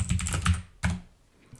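A few crisp keystrokes on a computer keyboard, close and clear, typing an asterisk: a quick cluster of taps, a single sharper press, then a faint final tap.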